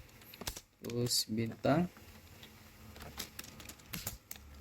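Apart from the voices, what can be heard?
typing on a computer keyboard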